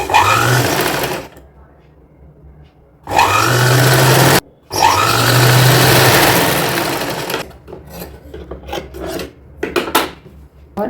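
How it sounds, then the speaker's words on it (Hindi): A close, loud sewing machine stitches the lining fabric of a baby girl's dress in three bursts: one long run, a short pause, then two more runs, followed by scattered handling noises. "इसको हम ऐसे सिलाई लगा लेंगे"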